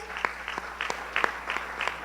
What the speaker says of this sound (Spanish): recibámosla con fuertes aplausos.